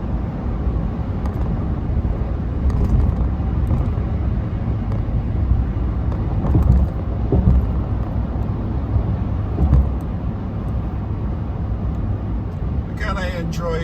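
A car cruising on a highway, a steady broadband road and engine rumble filling the cabin throughout, with a person talking over it.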